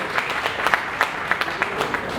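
Audience clapping at a Chamber of Industries & Services gathering in Saharanpur during a welcome, a steady patter of many hands with sharper individual claps poking through, moderately loud and continuous.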